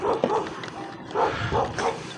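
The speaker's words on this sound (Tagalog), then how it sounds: "May aso." A dog barks and yips in a few short bursts close by, with people talking and moving around it outdoors.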